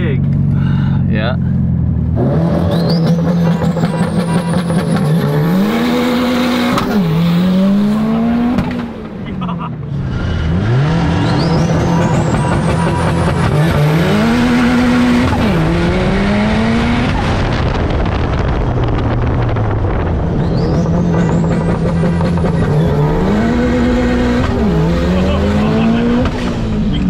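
A Subaru STI with 800hp compound turbos launching from a dig against a rival car, three loud runs of rising engine roar through the gears with tire squeal and shifts, separated by brief lulls.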